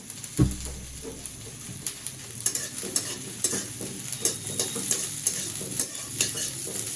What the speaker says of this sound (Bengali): এটাকে হালকা করে ভেজে নিই